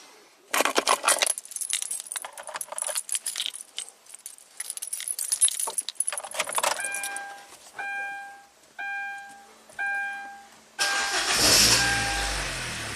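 A 2011 Kia Forte with a crankshaft position sensor fault, tested with only the crank sensor and ignition coil 4 connected, is started after keys jangle in the ignition; several repeated tonal chimes sound before a loud engine burst near the end.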